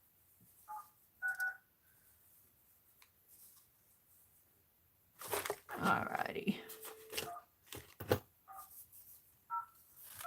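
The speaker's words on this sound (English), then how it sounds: "Sounds like my brother's trying to make a phone call" A telephone keypad beeps in short paired dialing tones, a few spaced presses near the start and end, with a brief quiet voice and handling clatter in the middle.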